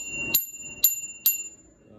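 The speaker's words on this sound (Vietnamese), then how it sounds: "Này có cả chuông luôn nhé." A bell on a Panasonic bicycle rings three times in steady succession, each ding bright, clear and close with a short metallic ring-out, heard alone.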